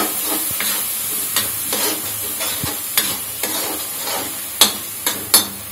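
Masala is mashed and stirred in a hot pan, with a steady sizzle and frying hiss and a few sharp scraping knocks of the spoon against the pan.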